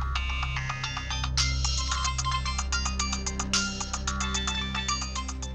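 A phone ringtone plays a rapid, repeating electronic melody, loud and close, over a low steady hum with no voices.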